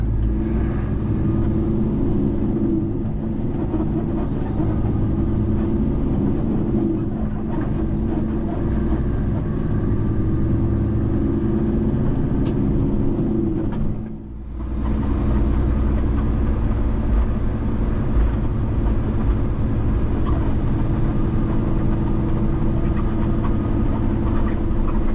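A truck engine drones steadily while driving, a loud continuous low rumble with a brief dip midway, and no talk.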